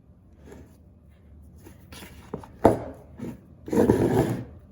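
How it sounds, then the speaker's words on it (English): Bread dough made from fresh milled flour is kneaded by hand, giving soft, close rubbing and slapping sounds that grow louder toward the end, with no talk. "we're going to mix it up really well and then knead it for about 10 minutes"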